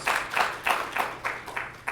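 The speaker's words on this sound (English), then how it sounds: "Yes, some applause for the center, please." Audience applause at a Comic Con 2015 panel session, heard as a steady run of separate bursts of clapping from a moderately distant crowd, rising and easing in waves with no speech over it.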